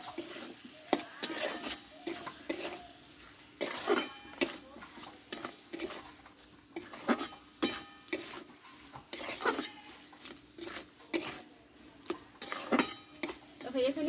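Chili powder, coriander powder and cumin powder fry in a pan while a spoon scrapes and clinks against the metal in repeated, uneven strokes over a soft sizzle.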